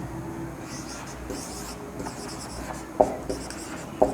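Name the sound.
writing numbers while solving a problem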